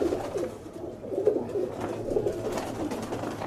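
A flock of show pigeons cooing and fluttering overhead outdoors, a steady mid-pitched murmur of soft coos that holds for the whole stretch at moderate loudness with no talk.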